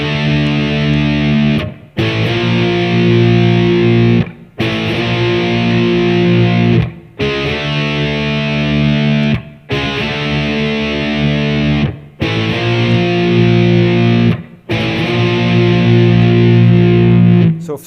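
Distorted electric guitar plays a song's verse at a slow tempo, loud sustained power chords in long blocks separated by brief pauses, with no talking.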